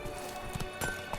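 A horse's hooves clip-clop in The Witcher 3 video game, a few soft rhythmic thuds over a steady background hum, brief and moderately close, with no speech.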